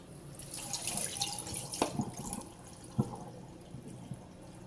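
Running tap water splashes into a sink while fish is rinsed under it, a steady close stream with a few sharper splashes and knocks as the fish is handled.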